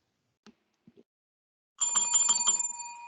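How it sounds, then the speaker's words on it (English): A bell rings out for a correct price guess on a wrestling podcast game segment, a bright sustained ring with rapid repeated strikes lasting over a second, preceded by a few faint clicks. "There's the bell."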